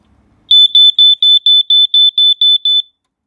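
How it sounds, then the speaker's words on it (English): Smoke alarm test: after a brief low rustle, ten loud, evenly spaced high-pitched electronic beeps sound close-up in a steady rhythm and then stop, with no talking. "Let's push the button, and we should hear a noise."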